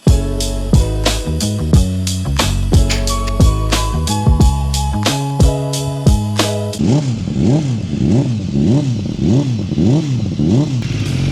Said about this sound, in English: they put the bike on the dyno basically to run it in